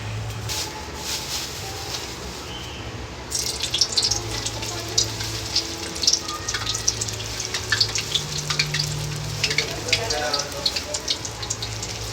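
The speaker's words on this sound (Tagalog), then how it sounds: "Magluluto ako ng lumpia." Lumpia spring rolls frying for breakfast, a steady crackling sizzle with bursts of spattering oil close by, growing busier partway through, with faint talk at times.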